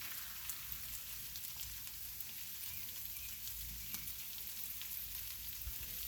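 Sloppy Joe mix sizzling on a 22-inch Blackstone griddle, beside a tortilla for quesadillas: a steady, fairly quiet frying hiss with small crackles and pops, unbroken for the whole stretch.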